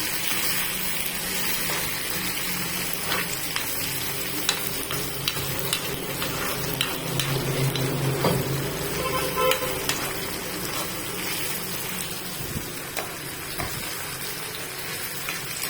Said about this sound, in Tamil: இது ஒரு 5 மினிட்ஸ் வதக்கணும்